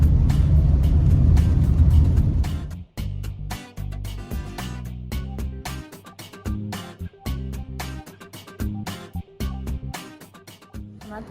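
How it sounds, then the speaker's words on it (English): Car interior on the drive to the airport: a loud, low engine-and-road rumble for the first few seconds, which then gives way to rhythmic music. "We're in the car headed for the airport."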